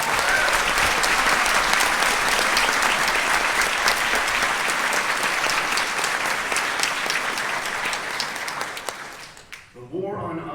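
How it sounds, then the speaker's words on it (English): Conference audience at a Ron Paul Institute event applauding: loud, dense clapping from a large crowd that holds steady, then thins and fades out near the end. "So give yourselves a round of applause."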